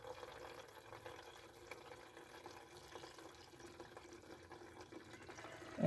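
Washer fluid pours by hand into the reservoir of a 2010 Ford Fusion, a faint, steady trickling and gurgling of liquid that continues quietly up close, ending in a brief louder bump.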